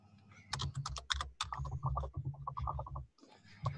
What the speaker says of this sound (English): Am I typing too loud?